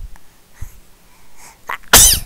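A single sharp, loud sneeze bursts out close by near the end, preceded by faint breathy inhales and small rustling sounds in an otherwise quiet room.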